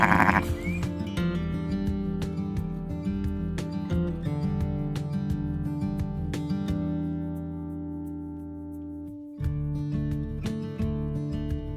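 Sheep and lambs bleat loudly and close by in a sustained, overlapping chorus during milking, with a short pause before the calls resume.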